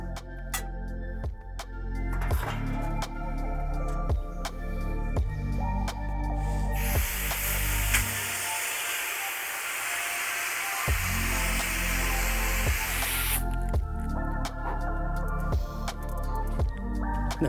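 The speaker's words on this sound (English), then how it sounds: "Putting a some sort of a degreaser, and then rinsing it off completely" Degreaser is sprayed onto an HVAC condenser unit and rinsed off, making a strong, steady hiss that lasts several seconds, close by, and cuts across a droning, tonal background.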